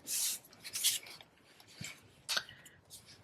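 A hand rubs firmly over a glued paper card with a ribbon on it, giving soft, brief scraping swishes in short separate strokes, quiet and close.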